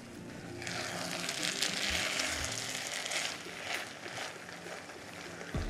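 Rice and gravy for hilsa pulao frying in a pan, giving a steady, moderately loud crackling sizzle with sharper pops through the middle, easing slightly toward the end.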